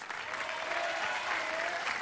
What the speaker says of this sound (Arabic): يلا تصفيقات عليه.